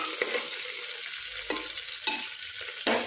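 Onion and green chili sautéing in a pan for masala khichdi: a steady broadband sizzle with a few sharp stirring scrapes and clatters spaced through it, close up, no voices.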